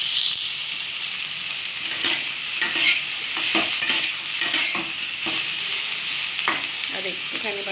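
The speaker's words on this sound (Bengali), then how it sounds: "আর একটুখানি ভাজা দেখুন বন্ধুরা, যেভাবে ভাজার কথা, হালকা বেশি ভাজবো না।" Near, continuous frying sizzle from cauliflower in a pan, punctuated by repeated scraping strokes of a stirring utensil, with no voices.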